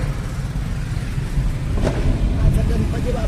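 A car's engine gives a continuous low rumble that swells slightly partway through, with soft talking and a few faint clicks over the drone.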